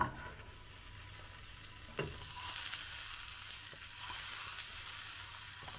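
Butter sizzling in the pan of a 1991 Soviet army mess kit, a steady close hiss and crackle that swells as it is spread around the pan, with a small clink near the start.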